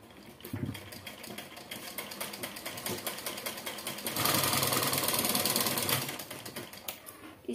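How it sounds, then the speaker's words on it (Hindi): A sewing machine runs stitch by stitch along the seam of a four-panel petticoat, a steady close mechanical chatter that grows busier and louder for a couple of seconds near the end before easing back. "अब इस पे भी हम सिलाई लगा लेंगे।"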